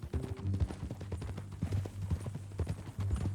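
Horse hooves clip-clop at a steady walking pace in the video game Red Dead Redemption 2, close and prominent, with a faint voice briefly underneath.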